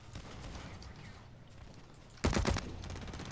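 A quick burst of several gunshots in the online shooter Blacklight Retribution rings out loud and sharp, standing out over a steady bed of game ambience and faint background noise.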